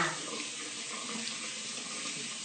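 Shower water runs steadily over a wet arm while body wash is being demonstrated, a continuous even hiss of spray with no pauses, close and moderately loud.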